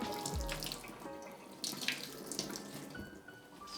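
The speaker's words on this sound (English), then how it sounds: "I'm going to grab that moss and then squeeze it and wring out that excess water" Excess water is squeezed and wrung out of moss for a plant moss pole, a close splashing trickle and patter of water running off, steady for a few seconds with no talk.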